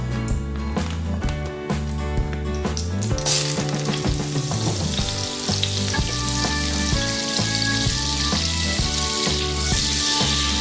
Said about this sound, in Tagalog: Lagyan natin ng kaunting mantika guys. Tapos sunod na natin itong butter.